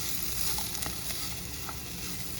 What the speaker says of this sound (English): I put the corn in the hot skillet